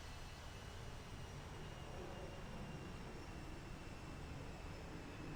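Airliner taking off from runway 27 left at London Heathrow in the Infinite Flight simulator, a steady broad engine roar that holds evenly throughout without any change in level.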